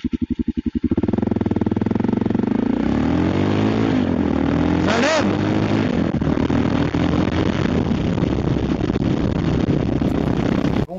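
A motorcycle engine during a test ride, a loud close steady drone that rises and falls in pitch as it revs and accelerates, with a rider's voice over it.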